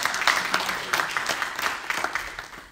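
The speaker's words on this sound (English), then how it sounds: "Clap for yourself." A church congregation claps for itself during a sermon, a short burst of scattered hand claps with uneven rhythm, moderately loud and fading slightly within a few seconds.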